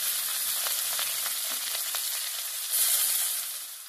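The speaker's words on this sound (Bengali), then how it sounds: "প্রায় 2 থেকে 3 মিনিট ধরে পেঁয়াজগুলোকে ভালো করে ভেজে নেব।" Chopped onions fry in hot mustard oil with nigella seeds, giving a steady, close sizzle with faint crackles and a brief louder burst near the end, without any talking.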